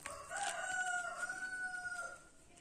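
A chicken gives a drawn-out, rising and falling crow-like call near a home where a pet parrot is kept, a single clear bird voice lasting about two seconds with no talking.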